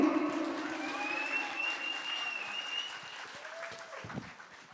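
An audience claps steadily after a duet of old Bollywood songs at a music academy concert, a dense, continuous burst of applause that slowly fades toward the end.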